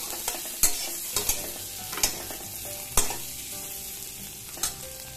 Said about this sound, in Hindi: दो मिनट हमको आलू को फ्राई करना होगा।